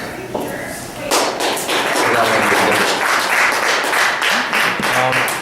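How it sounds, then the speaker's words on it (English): Applause rises from the audience at a poetry open mic in a Flint, Michigan bar, a few seconds of clapping that starts after a thump and continues under a speaking voice. "So, to keep that applause going, help me welcome up a new poet, Ed Davis."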